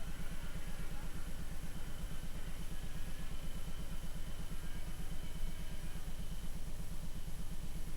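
Racing karts with Rotax engines and an Italian Techno kart chassis, at a 1992 European Formula A championship round. A steady, buzzing two-stroke engine drone pulses rhythmically at a constant level throughout, fairly distant with no voices.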